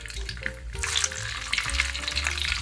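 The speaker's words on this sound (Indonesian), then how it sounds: "selanjutnya kita akan menggoreng telur puyuh yang sudah dikupas tadi" Peeled quail eggs fry in hot oil, a steady broadband sizzle with occasional bubbling crackles, close and continuous throughout, no voices.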